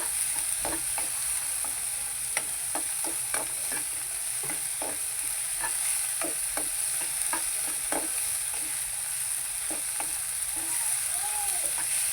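Spoon stirring thick gravy in a frying pan, with steady repeated scraping strokes over a constant oily sizzle, close and continuous.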